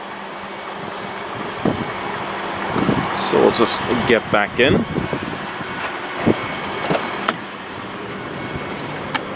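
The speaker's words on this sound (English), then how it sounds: "at the moment the car is just running off the petrol engine" A 2017 Toyota Prius Luxury idles on its petrol engine with a steady low hum running throughout, while a person talks briefly inside the car and a few door or handling clunks break in.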